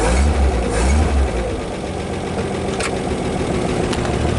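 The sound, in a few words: 1939 Chevrolet Master 85 engine revving with gas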